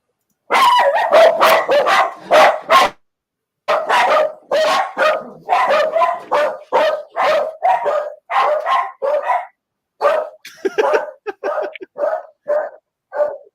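Dogs and pups barking and yipping in rapid repeated bursts, close and loud, with a brief pause before the barking resumes and continues.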